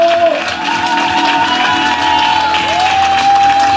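A conference audience at a motivational summit breaks into sustained applause, dense and steady for several seconds, with scattered shouts and cheers rising from the crowd and a sustained tone ringing over the top.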